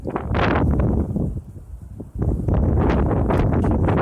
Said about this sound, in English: What would you make of the wind?